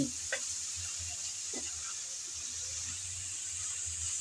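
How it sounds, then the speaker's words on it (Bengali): Potatoes frying with spices in a pan, a faint, steady background sizzle with a few soft stirring knocks, heard close but quietly. "আমি এখন মশলাগুলো দিয়ে নেড়ে চেড়ে ভালোভাবে আলুগুলো বেজে নিচ্ছি"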